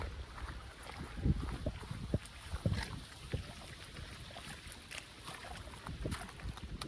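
Gusty wind buffets the microphone outdoors on a sunny, cloudless day, rising and falling in uneven bursts with a rough, rumbling texture.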